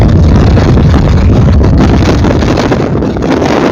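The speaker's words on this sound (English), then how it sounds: "a researcher is testing a new helmet in an acoustic wind tunnel" A new Schuberth motorcycle helmet sits in an acoustic wind tunnel that can blow gusts up to 230 km/h. A loud, steady, close rush of air roars without a break, with no voices.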